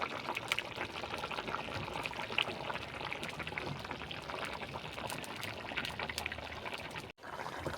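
Water pours steadily into a cooking pot of potatoes for potol chingri, a continuous splashing fill lasting several seconds, close and fairly quiet, ending in a brief cutoff.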